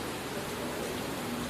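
Heavy rain falls in a steady, dense hiss that stays even and unbroken throughout, with no voices over it.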